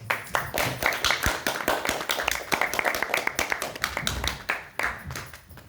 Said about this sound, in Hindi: जोरदार तालियों से स्वागत करिएगा हमारे मुख्य अतिथि